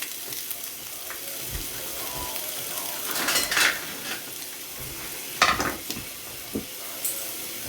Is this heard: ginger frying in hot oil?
yes